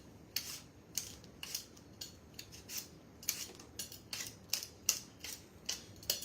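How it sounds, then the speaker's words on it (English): A hand peeler scrapes along a potato in quick, evenly spaced strokes, a steady rhythm of soft, close rasping swipes repeated over a dozen times, with no talking. "I'm going to peel my second potato."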